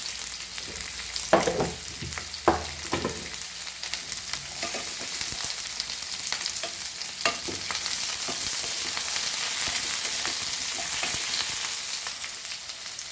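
Cumin seeds frying in hot oil in a pan for Goan spring onion bhaji, giving a steady bright sizzle with a few sharp crackles and pops early on, then a continuous even hiss.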